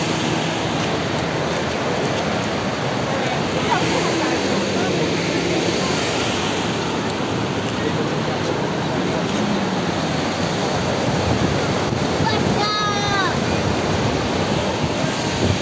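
Waterfall at Hookah Falls pours in a steady, dense roar that holds level throughout, with a brief faint chirp partway through.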